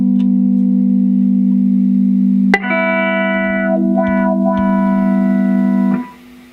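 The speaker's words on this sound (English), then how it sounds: "So now I have my wah pedal." An electric guitar plays through a wah pedal and distortion into an amp, with a sustained distorted note, then a sharp new chord that rings on with the wah sweeping its tone before the sound cuts off near the end.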